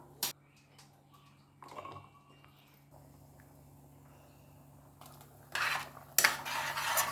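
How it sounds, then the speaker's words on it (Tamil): A utensil clinks and scrapes against a pot of chicken gravy with coconut added, in intermittent bursts, with louder clattering stirring toward the end and quiet gaps between. "தேங்காய் ஊற்றிட்டு அப்பப்போ இந்த மாதிரி கிண்டி விடணும்"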